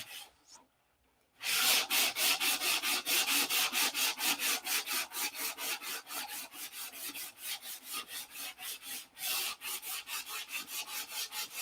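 A P-47 model's surface is sanded by hand in a fast, even back-and-forth rhythm of rough rasping strokes, close and steady after a quiet start, with a short pause near the end and no talk.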